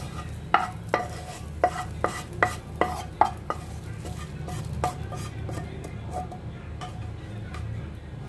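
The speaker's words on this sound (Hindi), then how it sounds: "मिक्स कर देंगे इसे अच्छे से।" A spoon scrapes and taps against a pot while stirring karela kadhi, in a run of sharp irregular clicks over a low steady hum, with no talking.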